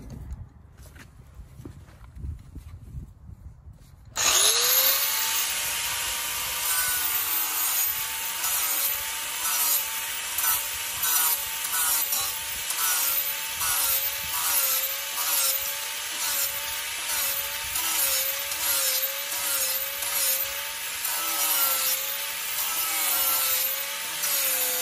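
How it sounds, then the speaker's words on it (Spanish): Sandpaper rubs back and forth on wood for a sheep feeder, a steady rhythmic scraping that starts abruptly after a few quiet seconds and continues close and even to the end. "Y ahorita voy a agarrar una lija."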